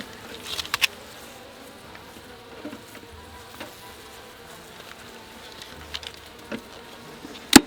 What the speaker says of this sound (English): With very angry bees.